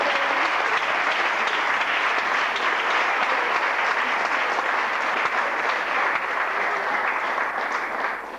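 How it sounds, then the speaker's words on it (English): Sustained applause from an audience at a Howard University fireside chat, a dense, even wash of clapping that holds at full strength for the whole stretch before easing slightly at the end. "Please bring him on with a big round of applause, Brother Kwame Ture."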